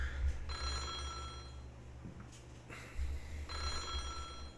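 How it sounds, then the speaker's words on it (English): An old black telephone rings in the retro horror game Otogirisou, two bursts of a bright metallic bell trill separated by a short pause, heard over a low steady game hum. "We stared at the phone as it continued to ring."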